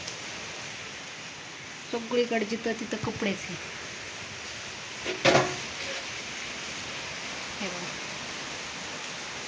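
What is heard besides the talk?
rain falling, third day of continuous rain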